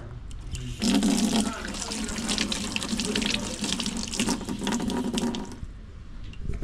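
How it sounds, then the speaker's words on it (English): Tap water runs steadily into a sink as hands are washed, a continuous splashing rush starting after a brief pause and holding close and fairly loud for several seconds before easing off at the end. "Let me wash my hands here"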